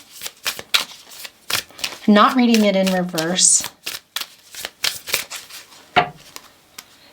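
Oracle cards being shuffled by hand in a string of quick, crisp riffling bursts close by, with someone talking over and between them.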